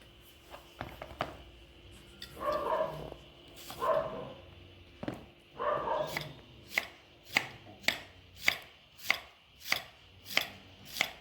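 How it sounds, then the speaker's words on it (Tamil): A knife finely chops large onions on a cutting board, a few scattered cuts settling into a steady run of crisp, evenly spaced strokes. "நாலு பெரிய வெங்காயம் எடுத்துருங்க இதை நம்ம நைஸாக நறுக்கிக்குவோம்"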